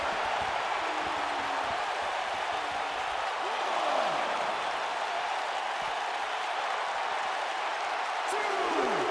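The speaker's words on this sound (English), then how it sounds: "The crowd chanting, "This is awesome."" Crowd in the WWE 2K wrestling video game roaring and chanting at a steady level throughout, a dense wash of arena noise with no clear breaks.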